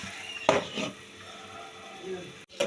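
A metal lid comes off a pot of tilapia mustard curry with a couple of sharp clanks, followed by a light scrape and another clink near the end, close and fairly quiet.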